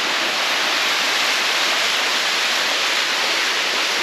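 A mountain waterfall roars in a loud, unbroken rush of falling water that stays constant from start to finish.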